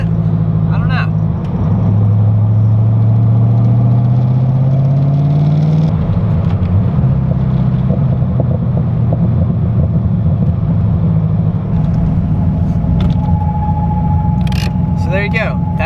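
Car engine running with a FiTech fuel injection system, a loud deep rumble that shifts pitch as it revs, heard close up and continuous throughout with voices talking over it.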